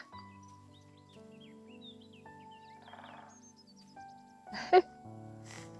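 Short bird chirps and tweets sound faintly at a distance on a countryside hiking trail, scattered over a quiet background with a few soft knocks.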